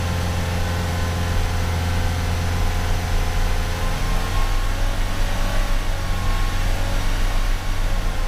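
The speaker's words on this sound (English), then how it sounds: "Misfiring a little bit there now" Vauxhall Corsa D running on LPG with low gas pressure, a loud steady engine drone with slightly uneven, stumbling pulses from misfiring, close by, with no talking.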